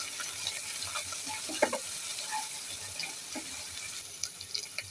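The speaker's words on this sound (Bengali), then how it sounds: "সব মশলা কষিয়ে নেব।" Ground spices, chili powder and coriander powder, fry and get stirred in a pan for a home-style curry with hilsa fish head, a soft continuous sizzle broken by scraping and clinking spoon strokes.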